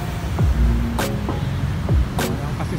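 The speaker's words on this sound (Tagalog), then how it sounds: "ganda na yung traffic" Road traffic on EDSA in Mandaluyong heard from inside or beside a vehicle: a steady engine rumble, with two sharp bursts of passing noise, one near the middle and one near the end.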